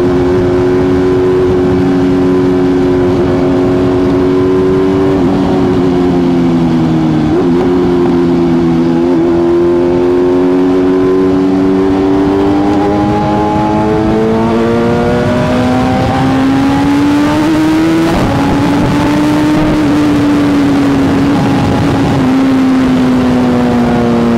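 A BMW car engine revs steadily at close range, its drone climbing and dipping in pitch through several throttle changes, running continuously with no talk.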